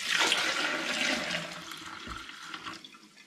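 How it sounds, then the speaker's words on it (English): Cider mash liquid from a hops, lime and ginger home brew pours loudly into a plastic jug, a continuous rushing, gurgling stream that eases off toward the end. "pour it into plastic jugs"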